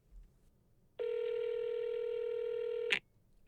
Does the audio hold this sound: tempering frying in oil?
no